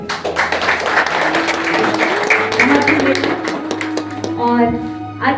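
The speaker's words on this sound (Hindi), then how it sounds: "जोरदार ताली बजाएं।" A gathering at a retirement farewell ceremony claps, the applause mixed with a steady hum and voices talking over it, fairly loud and close.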